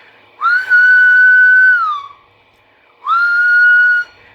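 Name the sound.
whistle blown into radio microphone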